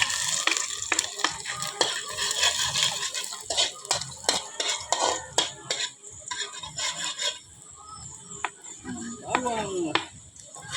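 Onion and ginger sautéing in a pan, with repeated sharp clinks and scrapes of a utensil stirring against the metal over a soft sizzle, irregular in rhythm and close up, with a voice speaking briefly toward the end.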